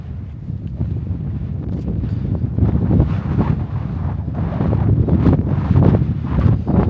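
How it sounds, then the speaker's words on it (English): Steady, loud wind buffeting the microphone of a DJI Pocket 3 camera, with rumbling low gusts that swell and ease throughout and no voices. "I don't even know if you can hear me because it's quite windy"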